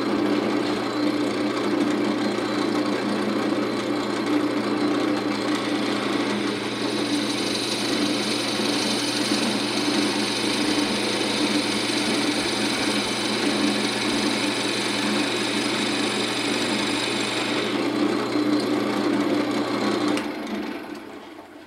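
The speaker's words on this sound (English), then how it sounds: "all we're going to do is drill down just enough to get this four prong where we can epoxy it in there" A drill boring a hole about three-quarters of an inch deep to seat a four-prong spur center makes a loud, steady motor whine. It runs continuously for about twenty seconds, then cuts off abruptly.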